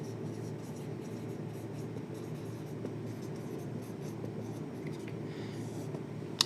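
Faint marker-like scratching on a board during a class on compound epithelium, a soft steady scraping under a low room hum, with a small tap near the end.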